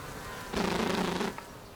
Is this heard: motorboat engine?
no